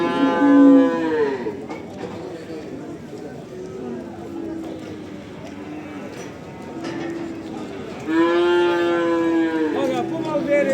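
Calves at the Barda cattle market let out loud, drawn-out moos, one burst at the start and another near the end, with murmuring market voices and crowd noise filling the stretch between.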